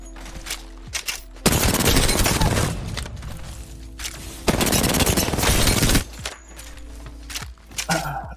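Rifle fire on a firing range in a video game, with scattered single shots and two long, loud bursts of rapid automatic fire, each lasting over a second, close and sharp.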